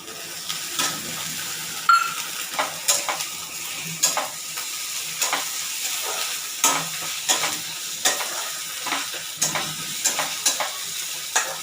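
Ginger garlic paste frying in hot oil with bay leaf and browned onion, stirred by a utensil in steady repeated scrapes over a continuous close sizzle.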